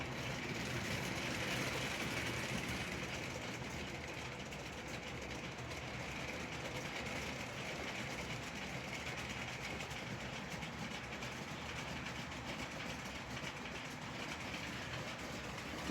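Faint, steady rumble of a 1951 American Flyer #302 Atlantic model locomotive running on AC track at about 7.5 volts, with a soft continuous whir and light rattling clicks.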